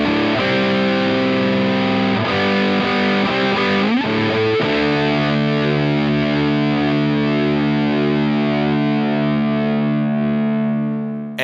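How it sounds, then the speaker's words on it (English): Electric guitar played through a Proco Rat distortion pedal, thick saturated chords ringing loud and continuous, with a few quick changes early on and a long sustained chord fading at the end, no talking. "this is what a real Proco Rat sounds like"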